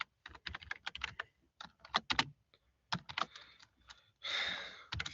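Close, crisp key clicks as a message is typed on a computer keyboard, coming in quick irregular clusters separated by brief pauses, with a soft breathy exhale near the end.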